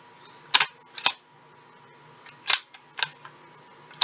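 A rifle bolt being worked gives sharp metallic clacks in a few separate clusters, close and crisp against a quiet background.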